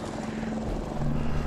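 A Brotherhood of Steel Vertibird aircraft passes overhead in the video game Fallout 4, a steady rotor drone with a low hum and a broad rushing wash, fairly loud and continuous throughout.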